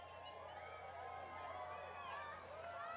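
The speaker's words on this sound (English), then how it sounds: "Crowd's getting excited." A distant crowd watching a solar eclipse near totality murmurs and calls out excitedly, a continuous wash of many overlapping voices with scattered whoops.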